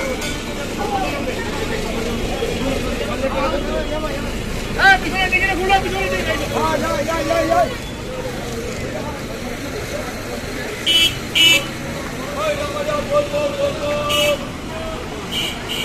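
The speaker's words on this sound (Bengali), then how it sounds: "এটা হচ্ছে 2025-এর দুর্গাপুর বাস স্ট্যান্ড" Busy Durgapur station bus stand in 2025 with idling buses and traffic rumbling steadily, several short horn toots cutting through, and someone talking over the noise.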